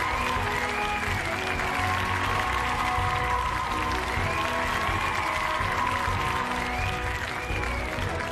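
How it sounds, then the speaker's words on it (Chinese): Crowd at a Wu Lin Feng kickboxing event applauds in a long, even wash of clapping, loud and sustained, with a faint ringing tone and music-like hum beneath. "我们掌声来祝福年轻人"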